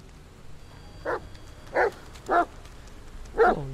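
A dog barks in the video game The Medium, four short, separate barks spaced roughly half a second to a second apart, moderately near against a quiet background with no speech.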